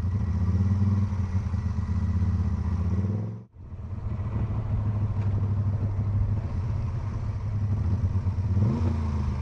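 A Moto Guzzi California 1400 Touring motorcycle engine runs with a steady mid-pitched rumble, briefly cutting out for a moment before resuming and revving, heard close and alone.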